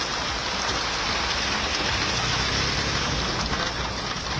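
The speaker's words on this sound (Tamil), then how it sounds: "உள்ளிட்ட இடங்களில் திடீரென மழை வெளுத்து வாங்கியது" Heavy rain pours down steadily in Chennai, a dense continuous hiss of downpour on surfaces that stays loud and even throughout, with no voices.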